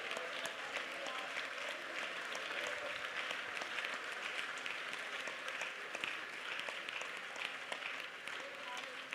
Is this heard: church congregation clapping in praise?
yes